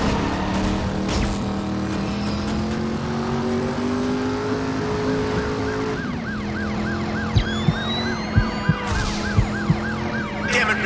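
An ambulance siren wails loudly and continuously in the San Francisco street-driving game Driver San Francisco, cycling up and down over engine noise, with a few short clicks late on.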